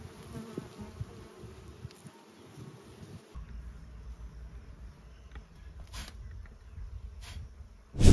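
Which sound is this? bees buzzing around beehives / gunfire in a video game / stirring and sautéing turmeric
bees buzzing around beehives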